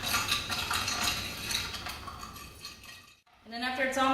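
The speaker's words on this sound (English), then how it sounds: "I just get a fork and I mix it all around" A fork mixes peppercorn seasoning on a plate, scraping and clinking against the surface in quick repeated strokes, then a brief pause before a burst of tonal ringing clinks.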